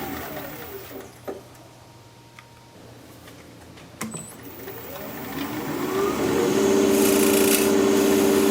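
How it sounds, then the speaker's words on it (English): A woodturning tool is sharpened on a grinder, with scattered light scrapes and clicks at first, then a continuous whirring, rasping grind that swells and holds loud toward the end. "Yeah, I'm going to sharpen again."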